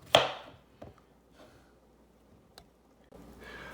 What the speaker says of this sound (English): And I'm gonna cut them up like so.